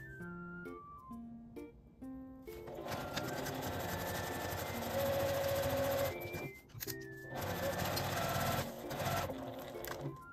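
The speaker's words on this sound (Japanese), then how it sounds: "端から5ミリぐらいのところを縫います。" Sewing machine stitching a Daiso aluminium cooler bag about 5 mm from the edge: a few short starts, then a long rapid mechanical whirr of stitching, briefly pausing before resuming, close and clear.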